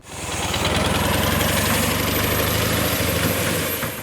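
A motorcycle engine being repaired for military use runs steadily and loudly throughout, a dense low rumble with a faint high whine riding on top, no voices.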